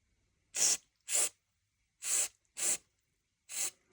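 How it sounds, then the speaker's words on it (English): An airbrush fires short sharp hissing spray bursts during cleaning, five distinct blasts with silent gaps between them, close and alone. "a quick spray."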